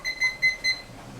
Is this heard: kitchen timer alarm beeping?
yes